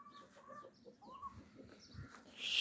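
Romanian farmyard hens, a small flock of village hens kept with roosters, clucking softly and intermittently at a distance amid faint outdoor background noise.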